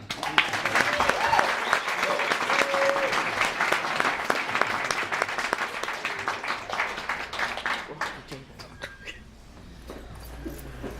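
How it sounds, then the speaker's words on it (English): Loud applause from a comedy club audience at Yuk Yuks in Vancouver greets a comic taking the stage, with dense clapping and some cheering that holds steady and then tapers off into scattered claps. "Please welcome, for your enjoyment, a huge round of applause."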